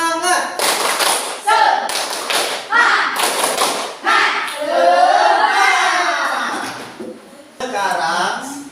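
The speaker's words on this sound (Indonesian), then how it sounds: "Supaya kita bersemangat, kita tepuk semangat lagi." Classroom of pupils doing tepuk semangat, bursts of rhythmic group clapping in patterned beats, loud and close, alternating with a teacher's voice and children chanting along.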